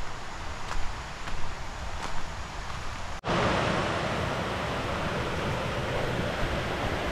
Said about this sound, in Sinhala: වතුර සද්ද ඇහෙනව නේද